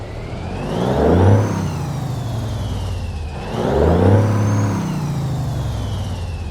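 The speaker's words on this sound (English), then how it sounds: "let's get this Peterbilt 389 started up and get on the road" A Peterbilt 389 truck's Cummins N14 engine rumbles close by in American Truck Simulator and revs twice in swelling surges, each roar rising then settling back to a loud, steady idle.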